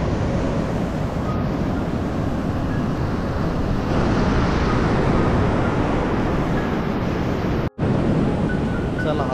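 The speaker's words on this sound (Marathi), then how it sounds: "तुम्ही बघू शकता समुद्र एकदम भन्नाटलेला आहे" Rough sea surf at Guhagar beach roars as a loud, steady wash, with wind buffeting the microphone and a brief dropout near the end.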